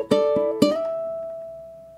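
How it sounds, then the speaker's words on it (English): An acoustic guitar in a fingerpicking etude sounds a strummed chord, then two single plucked strings and another strum, the last chord ringing out and fading, played alone and close. "So you're going to strum that chord, then you're going to pluck 1 and 2"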